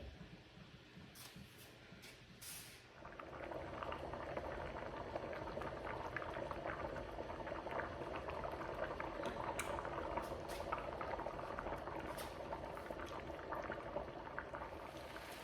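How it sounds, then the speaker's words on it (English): Purple rice boils in a pot on a stove: after a quieter opening, a steady, dense bubbling rises and continues at an even level throughout. "So I'm gonna let it boil like this."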